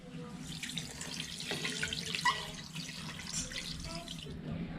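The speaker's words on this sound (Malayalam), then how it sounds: "പിന്നെ ഇത് മുങ്ങി കിടക്കാൻ ആവശ്യമായിട്ടുള്ള വെള്ളം ഒഴിച്ചു കൊടുക്കാം" Water pours steadily into a pressure cooker holding boti (goat tripe) with turmeric, a continuous close splashing gush with faint background sounds under it.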